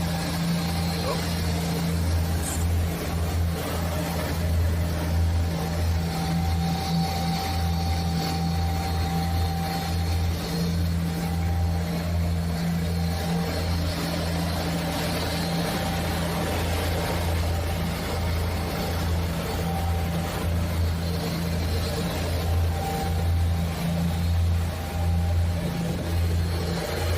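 Aircraft engines running at high power drone steadily and loudly throughout, a dense low hum with tonal bands, while people talk over the noise.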